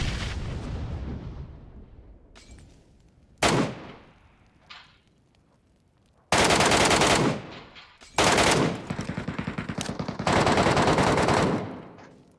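Gunfire in the PUBG Metro video game: loud automatic bursts and single shots come in clusters, with rapid rattling volleys and sharp cracks separated by quieter stretches.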